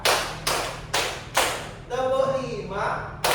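Four sharp hand claps spaced about half a second apart ring out in a classroom-style clapping count led by a teacher, followed by a voice speaking, then one more clap at the very end.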